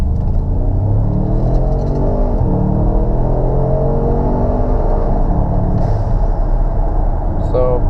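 A Ford Explorer Sport with an EcoBoost engine accelerating hard from low speed on an open road, a loud steady in-cabin engine rumble and drone rising in pitch as it pulls.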